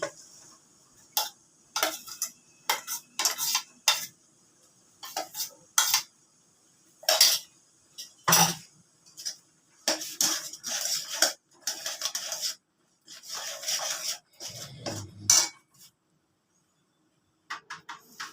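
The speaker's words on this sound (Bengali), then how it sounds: "আমি দিয়ে দিচ্ছি এই পরিমাণ চিনি। এবারে আমি বাদামের পেস্টটা দিয়ে দিচ্ছি।" Sugar and peanut paste going into a pan for peanut halua, a series of sharp metallic spoon taps and clinks against cookware in irregular bursts, with short pauses between them.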